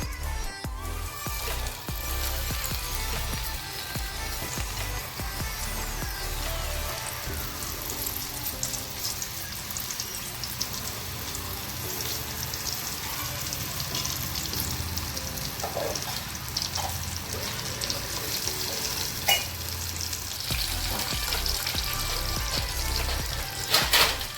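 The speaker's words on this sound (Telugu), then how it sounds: "నూనె వేడయింది, కొంచెం కొంచెం వేసుకుందాము." Batter for a dry chole snack is dropped bit by bit into hot oil and fries with a steady, close sizzling hiss and crackle that carries on throughout.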